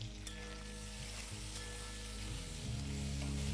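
Tomato wedges dropped onto browned onion and coconut for mutton Kolhapuri, a soft steady sizzle under a low hum, swelling slightly near the end as the mixture is stirred.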